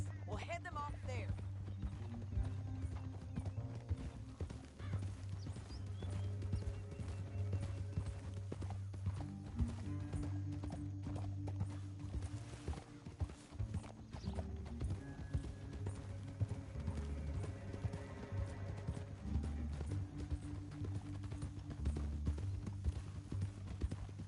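Horse hooves clip-clop at a steady walking pace in Red Dead Redemption 2, continuous and moderately close under game dialogue and a low ambient backdrop.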